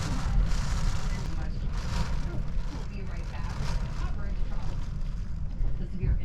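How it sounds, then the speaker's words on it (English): Strong hurricane wind from Hurricane Nicole roars steadily outside a motorhome, a loud continuous low rumble with gusty surges. "Can you hear the wind?"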